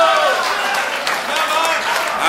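Audience applause at a political speech event, a brief, loud, steady burst of crowd clapping lasting a couple of seconds, with a voice faintly mixed in.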